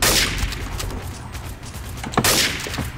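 Gunfire in Counter-Strike Source, a couple of loud bursts at the start and end with scattered fainter shots between, under a steady noisy background.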